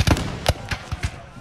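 Muskets fired in a ragged volley at a Battle of Gettysburg reenactment, several loud close reports in quick succession, then fading.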